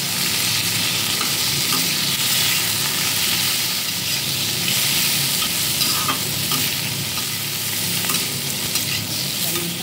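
Chopped tomato and green chili sizzle steadily in a hot pan, with a spoon scraping and stirring through the crackling oil close by and no voices.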